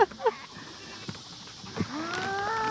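Farm goats calling out, a few short bleats up close followed by a longer rising wavering call, with quiet gaps and faint background noise between them.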